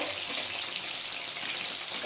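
Stuffed lotkey fish frying in hot oil gives a steady, dense sizzle with a fine crackle, close and continuous without pause, and no voices over it.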